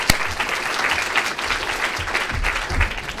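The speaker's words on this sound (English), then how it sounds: "So just one last final round of applause for all our presenters." Audience at an institute research day session gives a final round of applause for the presenters, a sustained full clapping with a few sharper individual claps standing out.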